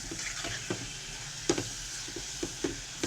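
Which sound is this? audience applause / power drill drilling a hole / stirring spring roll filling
stirring spring roll filling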